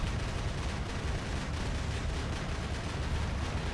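Robot-mounted machine guns in War Robots fire in a relentless, continuous roar of gunfire, loud and dense with rapid overlapping shots and no pauses.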